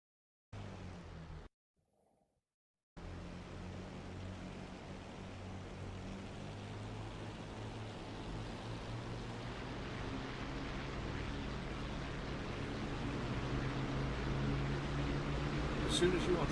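Twin piston engines of a de Havilland Mosquito in the DCS flight sim run at 3000 RPM, a steady deep drone that cuts out briefly early on, then returns and swells slightly louder over time.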